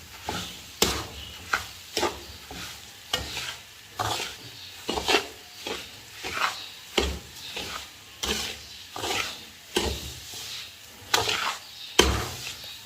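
Suji halwa with melting sugar frying in a kadhai, stirred with a spoon in repeated scraping strokes about twice a second, each stroke a sharp close knock over a soft, low sizzle.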